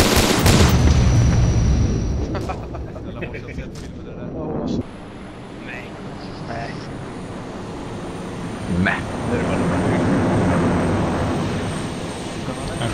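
A VTOL aircraft in the video game Arma roars loudly at first, then settles into a steady engine drone with a few sharp bangs, while people talk over it.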